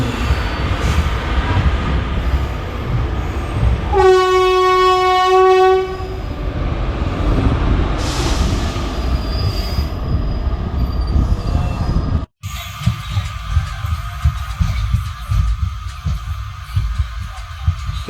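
The Sabari Express rumbles and rattles steadily along the rails as it enters Ernakulam Town railway station. A long horn blast sounds early on, and the wheels keep rolling underneath.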